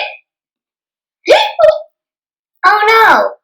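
A voice imitates hiccups while reading a children's bedtime story about a kitty with the hiccups: four short voiced bursts, spaced irregularly and separated by silence, with the last one longer and louder.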